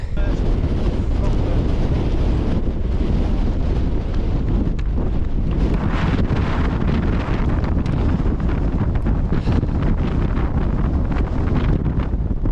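Strong wind roars and buffets constantly on Crag Hill, a mountain in the Lake District, UK, loud rumbling gusts battering the microphone without pause.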